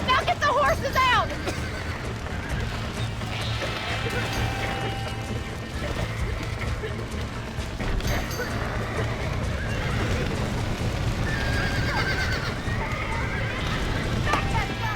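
Horses whinny loudly several times over clattering hoofbeats and mechanical clanks, with voices talking throughout, in the video game Red Dead Redemption.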